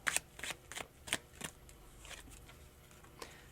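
Tarot cards riffled and shuffled by hand in a quiet room, a quick run of soft papery flutters and taps, close and fairly faint, with no talking.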